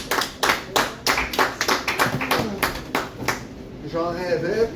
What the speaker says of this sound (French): Une bonne main d'applaudissements pour Daniel Blais.